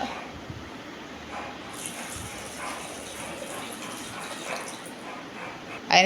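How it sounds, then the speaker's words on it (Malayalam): Water is poured into a pot of tapioca pieces for boiling, giving a steady, soft wash of pouring and splashing that runs the whole time at moderate level, with a brief louder burst near the end. "കുറച്ച് കൊള്ളി മുങ്ങാവുന്നത് അത്രയും വെള്ളം അലക്കി ഒഴിച്ചു കൊടുക്കുക"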